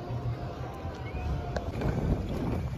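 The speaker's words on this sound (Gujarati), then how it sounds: "તો આજે કરીએ છીએ બોટિંગ।" A self-driven rowboat on a lake at Mount Abu, with steady water and wind rumble around the hull throughout and low wind buffeting on the microphone.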